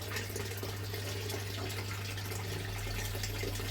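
Steady rush of water flowing through a gold sluice box on a Scottish stream, a continuous close broadband wash with a low hum underneath and no voices.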